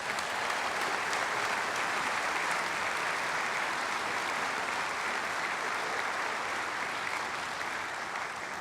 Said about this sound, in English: please give them a great round of applause